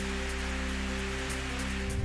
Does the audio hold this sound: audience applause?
no